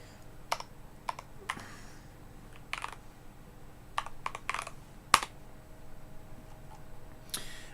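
Scattered keystrokes on a computer keyboard while someone builds a wiki web page: a few sharp, quiet clicks and short bursts, close by, with pauses between them and no talking.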